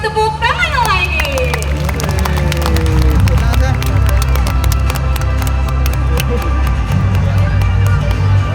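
An audience at a bird of prey show at Taman Safari Bogor claps in a scattered, moderate burst amid crowd murmur, after a brief voice at the start.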